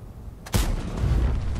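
A single heavy tank cannon shot in the video game World of Tanks, fired from a Russian gun: a sharp close blast followed by a rumbling low tail over steady battle background.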